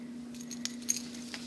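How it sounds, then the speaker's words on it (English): A small bunch of keys jingles in a few light metallic clinks and rattles, close and fairly quiet over a steady low hum. "Can't go well without these keys."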